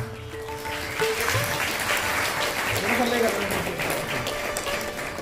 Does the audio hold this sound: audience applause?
yes